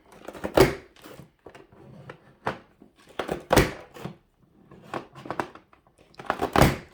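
A Border Maker cartridge system punches a decorative border into cardstock, giving a series of sharp, loud clunks and thumps with lighter paper rustling and handling noise between them.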